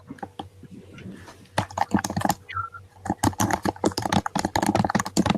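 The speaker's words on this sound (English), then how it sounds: "we can hear typing and other things like that in the main session" Clicky computer keyboard typing from an open mic during an online conference session, a fast irregular run of sharp taps that thickens into dense bursts, with a steady low hum underneath.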